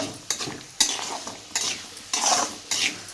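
A spoon scrapes and stirs through a pot of cluster bean (gavar) biryani over a high flame, in repeated sweeping strokes roughly every half second, close and clear with a light sizzle underneath.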